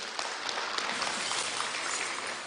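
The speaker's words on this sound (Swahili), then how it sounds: "Pigeni makofi DIG." Applause from an audience at a public security forum in Nyandarua County, a faint, steady patter of clapping without any voices.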